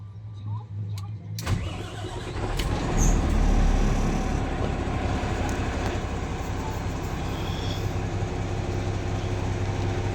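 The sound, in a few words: Howo 380 transit mixer truck engine started and running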